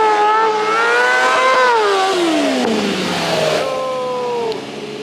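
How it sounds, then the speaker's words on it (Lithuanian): A racing motorcycle on a training lot at a motor bike expo revs hard, the engine pitch climbing and falling in sweeping waves, loud and close, then easing off near the end. "Turim ir lenktyninių motociklų."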